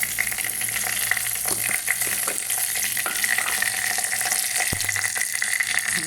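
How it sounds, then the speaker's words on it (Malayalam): Mustard seeds fry in hot oil in a pan, giving a close, steady crackling sizzle with scattered sharp pops throughout. "ചൂടാകുമ്പോൾ നമ്മൾ എണ്ണ ഇട്ടിട്ട് കുറച്ച് കടുക് ഇട്ട് കൊടുക്കണം"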